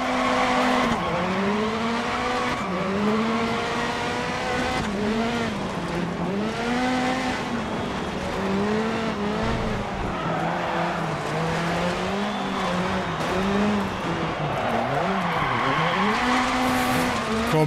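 A VW Polo Rallycross car in DiRT Rally at Höljes spins out, its engine revving and wavering loudly while the tyres squeal and skid continuously throughout, close and alone.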